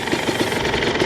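A 2022 TM EN300fi fuel-injected dirt bike engine runs steadily nearby, a loud, continuous rough drone with a faint repeating pulse and no talking.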